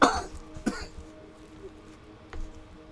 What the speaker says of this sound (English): Been fighting a bit of a cough.